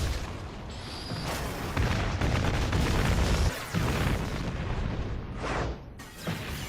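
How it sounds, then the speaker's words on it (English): Continuous heavy rumbling blasts and booms roar without pause, dense and loud, like a string of explosions layered into a dramatic Godzilla film action scene. "laser beams from the monster's mouth and explosions are edited in"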